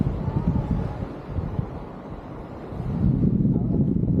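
Strong wind at Cabongaoan Beach buffets the microphone in low, blustery rumbling gusts, easing in the middle and picking up again toward the end.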